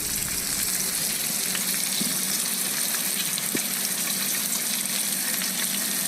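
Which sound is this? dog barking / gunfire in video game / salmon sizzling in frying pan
salmon sizzling in frying pan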